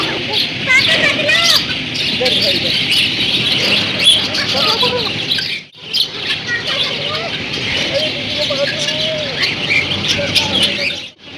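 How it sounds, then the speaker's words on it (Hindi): Many birds chirp and twitter continuously outdoors at fairly close range, with a brief drop partway through, while people talk in the background and traffic noise runs underneath. "मुझे भी बहुत अच्छा लगता है पक्षियों का शोर"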